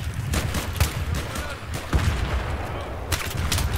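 Shotgun blasts in a Battlefield 3 match come as a rapid series of punchy, close reports over a busy battle bed, several shots in under four seconds.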